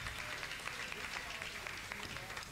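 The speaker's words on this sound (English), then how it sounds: "How about a nice warm round of applause for Bob Modo on tenor saxophone and clarinet" An audience at a live jazz show at the Palace gives a warm round of applause for a tenor saxophone and clarinet player. The clapping is a soft, steady patter from a small crowd, with faint voices underneath.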